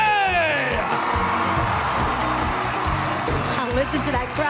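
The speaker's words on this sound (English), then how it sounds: "I listened to that crowd roar" Large pageant audience at a swimsuit competition roaring and cheering in a steady, loud wall of crowd noise with whoops and shouts throughout, while a voice talks over it.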